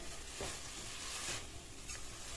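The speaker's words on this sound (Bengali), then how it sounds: "পনিরটা দিয়ে সমস্ত কিছু একসঙ্গে আবারও কিন্তু ভালো করে কষিয়ে নিচ্ছি।" Peas and fried paneer are stirred and sautéed in a pan, giving a quiet, steady sizzle broken by a few soft scraping stirs.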